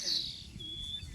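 Weaver birds chirping around their hanging nests after rain, a steady high twittering that goes on throughout with a faint low rumble beneath.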